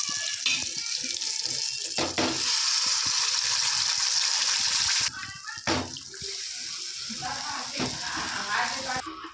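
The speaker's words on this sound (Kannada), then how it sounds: "ಸ್ವಲ್ಪ ಕರಿಬೇವು ಸ್ವಲ್ಪ ಸಾಸಿವೆ ನೋಡಿ ಫ್ರೈ ಆಗಿದೆ" Curry leaves and mustard seeds frying in hot oil for a peanut chutney tempering give a loud, steady hiss and crackle that runs almost throughout, briefly dropping mid-clip before resuming with sharp pops.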